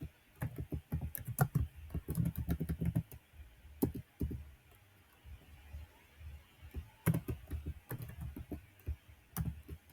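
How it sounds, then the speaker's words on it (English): Typing an address on a computer keyboard: close, quiet clusters of rapid key clicks in bursts with short pauses between, no voices. "So you're going to just type in whatever the address is."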